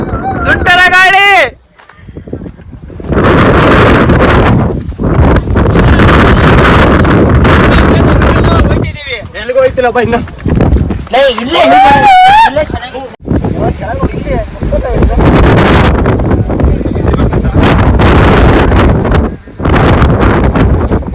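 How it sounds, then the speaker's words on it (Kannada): Strong whirlwind gusts buffet the microphone on the Shivagange hill trek, with loud roaring bursts that drop out briefly and return, while people talk and shout over them. "ಗಾಳಿ ಗಾಳಿ ಗಾಳಿ, ಸುಂಟರ ಗಾಳಿ."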